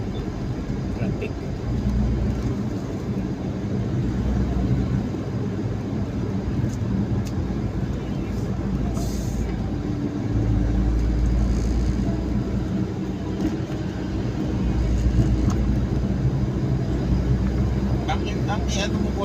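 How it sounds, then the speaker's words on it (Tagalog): Road traffic rumbles steadily during a drive, with a low vehicle drone that swells and eases, and a person talking over it. "Traffic."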